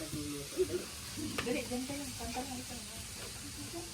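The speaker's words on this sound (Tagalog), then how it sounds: "Si nanay yun, nagluluto" Food sizzles in a pan as a mother cooks in a home kitchen, a faint, steady frying hiss under people talking nearby.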